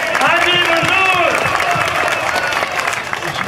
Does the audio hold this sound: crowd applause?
yes